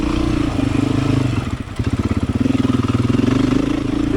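Beta 500 dirt bike engine pulling hard on a rough trail with big whoops, a loud close throbbing exhaust that briefly drops off then surges back with pulsing revs, no voices.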